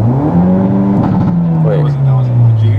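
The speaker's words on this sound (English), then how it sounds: "we're gonna do a first gear launch control" A 2022+ Hyundai Elantra N makes a first-gear launch-control start, a loud, close engine drone with a strong steady pitch that dips slightly and then holds, heard from inside the car with voices over it.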